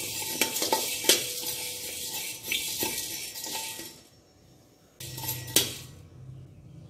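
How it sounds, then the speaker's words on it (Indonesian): Spices dry-roasting and being stirred in a pan for a spiced mutton soup, with a steady sizzle, scraping utensil strokes and clinks that stop briefly, then resume. "Sangaikan selama 3 hingga 4 minit"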